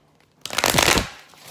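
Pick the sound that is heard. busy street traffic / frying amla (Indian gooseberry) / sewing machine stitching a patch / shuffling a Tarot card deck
shuffling a Tarot card deck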